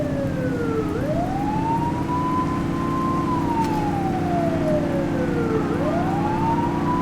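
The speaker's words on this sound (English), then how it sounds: "Remember to turn your siren on." A police car siren in The Precinct video game wails continuously, sweeping up and down in long yelp cycles over a steady engine drone, loud and close throughout with no talking.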